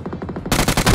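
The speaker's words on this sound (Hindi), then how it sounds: "यहाँ पे ठीक मेरे नीचे से बहुत ज्यादा गोली चल रही होती है" Automatic weapon bursts in the mobile battle-royale game BGMI (PUBG Mobile), a rapid string of loud close shots that jumps to a louder, harsher volley halfway through.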